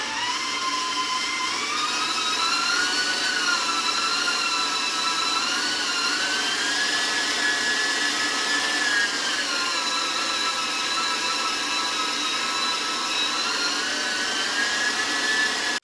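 Electric hand mixer running steadily at high speed, creaming butter and honey for banana nut bread; a continuous whirring motor drone with shifting pitch, close and loud throughout with no talking.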